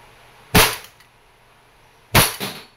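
An Umarex Glock 19X Coyote airgun fires two sharp, loud cracks about a second and a half apart, each with a short ringing tail, in an otherwise quiet setting.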